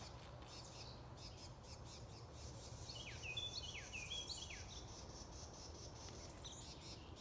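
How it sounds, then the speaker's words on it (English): Several birds call outdoors over farmland with ground cover, a cluster of clear chirping squawks standing out midway over a steady background hiss of insects. "I'm just loving the birds that are out here."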